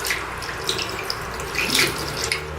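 Tap water runs steadily into a sink while makeup brushes are rinsed and squeezed under it. The flow is close and constant, with brief splashy surges as the brushes are worked.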